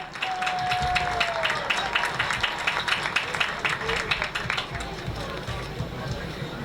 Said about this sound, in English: Let's have a nice round of applause for Tyler Bender and his family